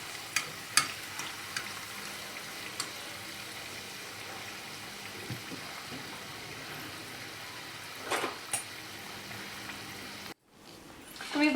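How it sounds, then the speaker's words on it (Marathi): Katori chaat cups fry in hot oil, giving a steady, moderate sizzle that runs nearly unbroken with a few clicks of utensils, then drops out briefly near the end before the frying noise swells back. "असं हळूवारपणे त्याच्यामध्ये तेल घालूया, म्हणजे ती सगळ्या साईडने छान क्रिस्पी होईल"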